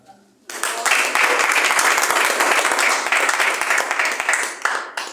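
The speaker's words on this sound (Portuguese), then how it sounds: "dá uma salva de palmas para Jesus" A church congregation bursts into loud, sustained applause for Jesus at a worship service, dense clapping filling the room steadily after a brief quiet start and tapering at the very end.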